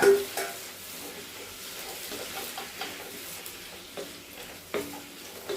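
Ginger, green chili and tomato sizzle and fry in a pan, a soft steady hiss broken by occasional stirring scrapes and clinks, fairly quiet and close.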